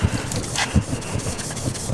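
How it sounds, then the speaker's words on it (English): Green stripping pad soaked in lacquer thinner scrubbed back and forth over wheel rim spokes, giving a steady, close, gritty rubbing sound with a rhythmic scraping pulse. "You're taking this green stripping pad, putting some lacquer thinner on it, and applying it evenly on a couple of spokes."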